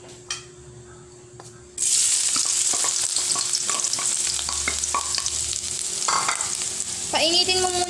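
Garlic hits hot cooking oil in a pan with a sudden loud sizzle that stays steady and close, marked by scattered stirring scrapes and a brief squeal of a utensil near the end.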